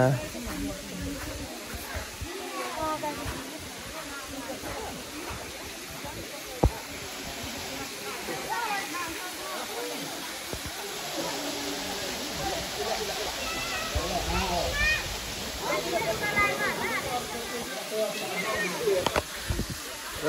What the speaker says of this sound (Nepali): ल फाइनली आइपुग्यो झरना